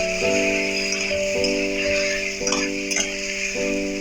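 Spice paste for a vegetarian moong posto dish sautés in a pan with a little water, giving a steady hissing sizzle with a few stirring clicks, under sustained background music.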